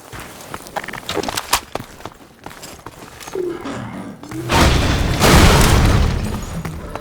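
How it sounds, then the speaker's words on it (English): In the video game Half-Life 2: Episode One, an explosion seals a cafe door: scattered thuds and clatter, then a loud, sustained booming roar that lingers for a couple of seconds. "This explosion permanently seals the cafe door"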